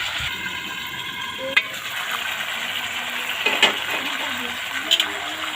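Local chicken meat sizzling and frying in a pan while being stirred, a steady bright hiss with a few sharp clinks of the spatula against the metal.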